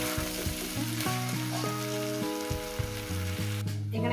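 Tomato and banana flower fry in a pan for a vegetarian mocha ghonto, a steady close sizzle with stirring scrapes, while background music plays throughout.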